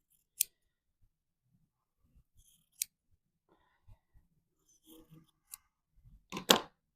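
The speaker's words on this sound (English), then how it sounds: "So I just kind of pull my scissors a little taut in there to make sure." Sharp scissor snips through fabric come one at a time in a quiet room, a handful of crisp cuts spaced irregularly, with a louder double snip at the end.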